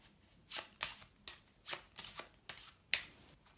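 A deck of playing cards is shuffled during a magic trick, giving a series of crisp riffling bursts, about eight in quick succession, close and clear with no talking.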